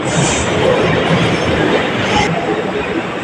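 Metro train rolling through a busy interchange station, a steady rumbling roar with faint wheel squeal and a brief high hiss above it.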